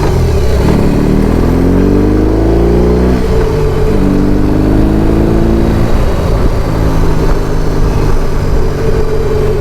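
A Harley-Davidson Low Rider ST motorcycle being ridden, its deep V-twin engine loud and close, rising through the gears with falling and climbing revs and a steady rumble throughout.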